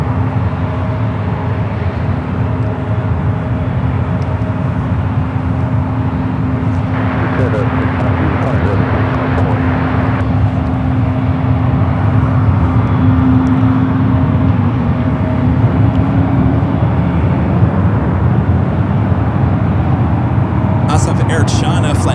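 Airliners line up and take off at San Francisco airport, with a sustained jet engine rumble and a steady droning tone swelling in the middle, loud throughout, under intermittent speech.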